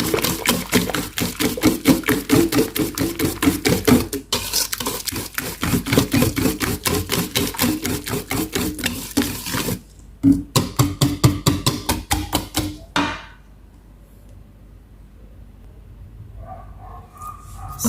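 A whisk mixes mashed banana for banana bread batter in quick, steady rhythmic strokes that clatter against the bowl for several seconds, pause briefly, resume, then stop, leaving a quiet room.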